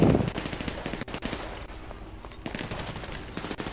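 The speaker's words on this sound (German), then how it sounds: "Wie oft soll ich den denn noch in den Kopf schießen?" Rapid bursts of automatic gunfire from GTA 5 Online ring out loud and close, with several short volleys separated by brief gaps.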